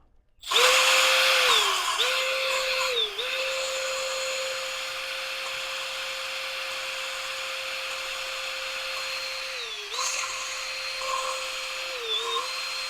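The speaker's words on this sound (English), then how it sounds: "the drill motor is noisy" An electric drill motor whines loudly and continuously while working on a used Mazda B-series cylinder head, its steady pitch dipping briefly a few times as the load changes.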